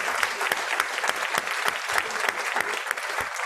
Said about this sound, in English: Mandy, if you can stand up for us, Mandy, and her team, big round of applause.